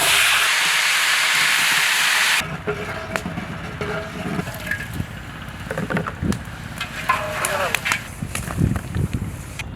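Potatoes frying in oil for a Hyderabadi mutton biryani give a loud, steady hiss for the first couple of seconds, then it cuts out, leaving scattered kitchen knocks and clatters.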